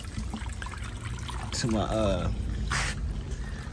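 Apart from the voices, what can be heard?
pouring water onto garden plants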